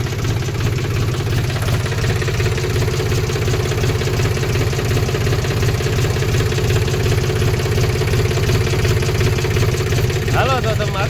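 Tractor engine idling close by, a loud, steady low-pitched rumble with rhythmic knocking that continues unchanged throughout.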